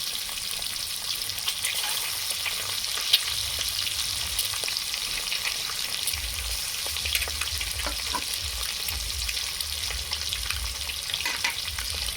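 Eggs fry in hot mustard oil in a kadai, giving a steady, crackling sizzle with occasional small pops and no talking.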